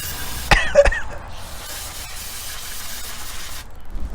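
A cleaning spray bottle gives a sustained hissing spray lasting a few seconds after two short sharp knocks, then cuts off abruptly, close by, during vehicle maintenance.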